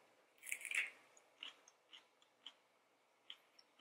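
Crunchy raw vegan food chewed close to the mic, a couple of loud bites followed by a steady series of sharp crunching chews, with no talking.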